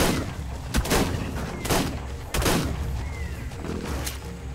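Gunfire in the survival video game ARK: several sharp shots spaced about a second apart over a steady background hum, fairly loud and with no talking.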